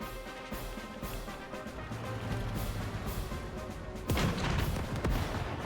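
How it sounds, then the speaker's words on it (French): Artillery fire in the Advance Wars video game plays as a series of dull booms and thuds over a muffled game soundtrack, with a heavier impact burst toward the end. "Avec son artillerie là, il fait très mal."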